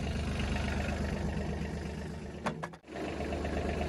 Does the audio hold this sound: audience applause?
no